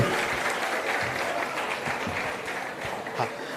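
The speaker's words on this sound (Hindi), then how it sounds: "एक बार केदार सर के लिए भी ताली बजा दीजिए" An indoor audience at a government unemployment-allowance programme event claps together in sustained, dense applause that holds evenly throughout, with no talking.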